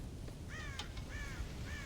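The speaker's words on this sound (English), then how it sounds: "God damn crows!" Crows caw in the Red Dead Redemption video game, three harsh drawn-out caws spaced across a faint outdoor ambience, moderately distant, no voices.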